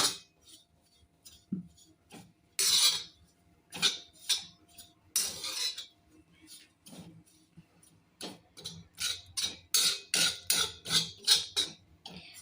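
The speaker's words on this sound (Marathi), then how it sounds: "आता अहो खोबरं भाजत आहेत पहा." Grated coconut dry-roasting in a pan, with a run of sharp, irregular clinks and ticks as a utensil stirs and scrapes against the metal, loud and close, with no voices.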